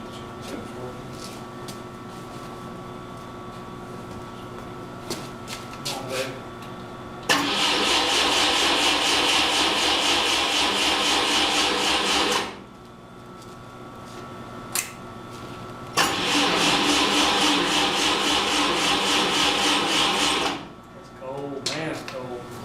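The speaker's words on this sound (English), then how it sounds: "we'll spin it over a little bit and see if we can get it to crank up" A Miller Big 40 welder's engine cranks over twice in long, loud bursts of starter churning, separated by a quieter stretch with faint background noise and voices.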